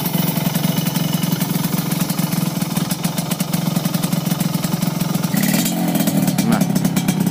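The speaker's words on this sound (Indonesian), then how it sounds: "suara mesinnya enak banget" A motorcycle engine idles steadily and close by, with a constant pulsing throb throughout and only slight variation near the end.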